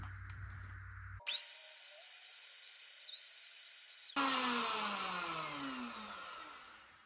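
A router cutting an ST3 guitar bridge cavity gives a loud, high, steady whine that starts abruptly, holds for about three seconds, then drops into a descending spin-down.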